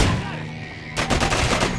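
Gunfire in the Manhunt video game: after a short lull, a dense rapid burst of shots erupts and continues, loud and close, over game ambience.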